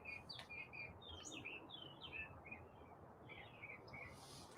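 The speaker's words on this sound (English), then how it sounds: "Lots of birds here this morning." Repeated high bird chirps and short calls from several birds, scattered over a steady outdoor background hum.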